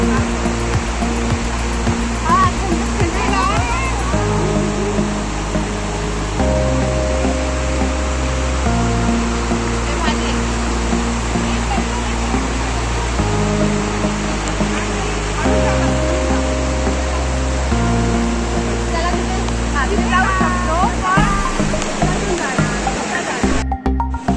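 A steady roar of a waterfall at Ranganagad fills the whole clip, with music-like tonal layers and bits of talk riding over the continuous noise.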